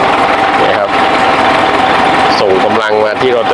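A Ford tractor's engine drones steadily throughout while running a rotary tiller, with a churning mechanical whir, loud and close, and someone talking over it.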